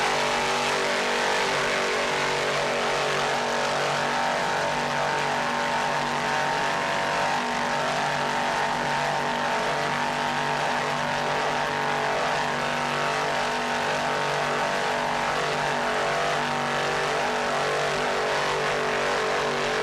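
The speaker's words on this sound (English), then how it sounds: "Frank Marine inboards sound excellent. Here are 550 horsepower." Powerful 550-horsepower Frank Marine inboard engines on racing powerboats roar continuously and loudly for the whole stretch, a dense mechanical drone with a steady hum as they pass at speed.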